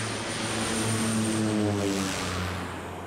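An airplane with a loud, steady propeller engine drone moves along the runway at Goma airport in the Democratic Republic of Congo, with the pitch shifting slightly as it passes nearby. No voices are heard.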